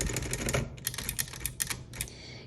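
The keys of a 1955 Olympia SM3 manual typewriter with italic type and a wide carriage are struck in a quick, uneven run of sharp, close mechanical clacks, with no voices.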